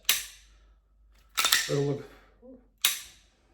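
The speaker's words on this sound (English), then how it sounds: "where guys pull the trigger, you hear the striker fall" Three sharp metallic clicks of a pistol striker falling on a snap cap, close and crisp, spaced apart, with a brief murmur of voice between the second and third.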